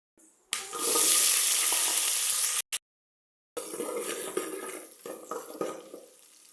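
Small onions (shallots) hit hot coconut oil in a pan with a loud, hissing sizzle up close, then after a brief pause keep frying more softly while being stirred and scraped.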